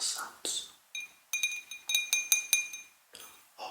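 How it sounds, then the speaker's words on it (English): A heavy, thick-bottomed whiskey tasting glass is tapped: about ten bright, ringing clinks spaced irregularly, close and clear, each with a short shimmering decay, with soft breathy noise between taps. "So let's hear how the glass sounds."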